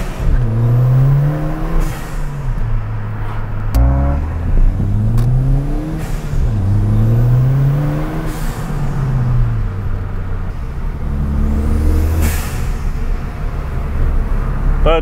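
Stage 1 Ford Fiesta ST accelerating hard through the gears with the windows down, engine pitch climbing repeatedly with brief dips at each shift, loud and close throughout.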